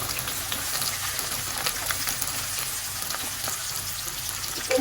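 Chopped onions and chilies hit hot oil and fry, giving a loud, even, rain-like hiss that holds steady close by without any speech.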